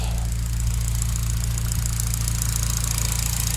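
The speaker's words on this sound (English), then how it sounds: "idling good." A 2009 Honda Civic Si with a Skunk2 drive-by-wire throttle body and high-flow cat idles steadily up close, a smooth low rumble with a regular pulsing beat and faint ticking valve tap on top.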